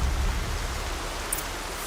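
Steady rain falling in a Horizon Zero Dawn game world, a constant soft hiss of drops with a faint low rumble beneath and one brief brighter tick midway, no voices.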